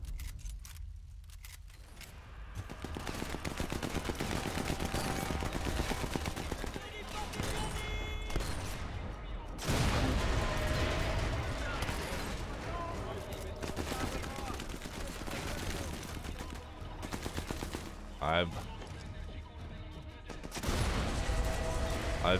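Repeated gunfire in Sniper Elite 4 sounds as a string of sharp, loud reports with rumbling tails, several bursts spread across the stretch and a voice talking over them.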